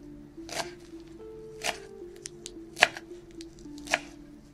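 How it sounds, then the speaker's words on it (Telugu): Washed leafy greens chopped into small pieces on a board, four crisp knife strikes spaced about a second apart, close and clear over a low steady hum. "ఇలా శుభ్రంగా కడిగినటువంటి ఆకుకూరను మనము చిన్న చిన్న ముక్కలుగా కట్ చేసుకుందాము"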